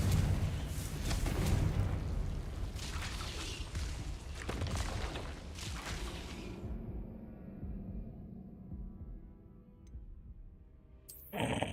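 Confringo spell blasts in the video game Hogwarts Legacy go off as several loud booming explosions in the first half, each with a long rumbling tail, then a muffled quiet stretch ending in a sharp burst.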